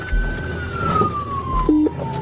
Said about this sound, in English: I hear sirens right now.